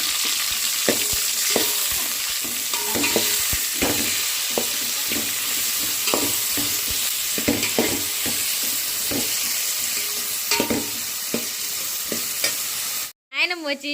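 Bottle gourd peel pieces frying in hot oil, a continuous loud sizzle with frequent clacks of stirring, cut off abruptly near the end.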